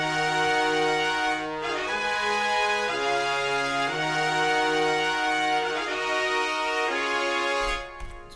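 A brass VST saxophone and horn section plays together, sustained bright chords shifting through a short phrase, full and loud throughout, no voice.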